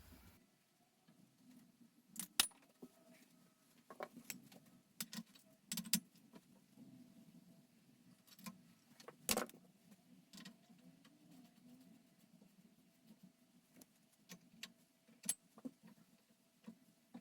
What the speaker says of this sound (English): Alright, let's get the crank off.